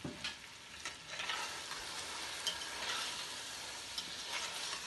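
A spoon stirring Sindhi biryani masala with fried onions in a pot, a soft continuous sizzle with faint scraping strokes, low and close.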